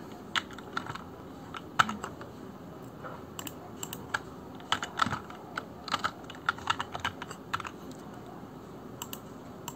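Steady typing on a computer keyboard while entering data, quick irregular key clicks in short runs, close and fairly quiet, with no talk.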